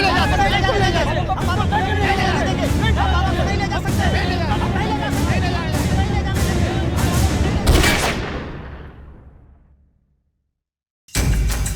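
A gun fired into the air cracks sharply several times over a loud, agitated crowd, then a long ringing tail fades to silence before noise returns.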